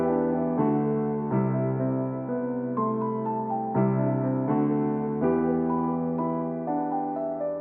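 A sad, slow piano melody built as a beat in FL Studio, with sustained chords and single notes changing every second or so, full and steady throughout with no talking.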